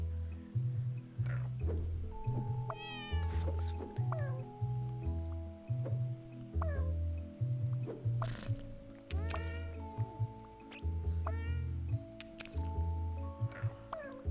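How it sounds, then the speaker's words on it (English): Cat meowing and caterwauling in a game, repeated drawn-out yowls and rising meows over a rhythmic low musical backing, moderately faint. "This cat looks like he's in pain for some reason."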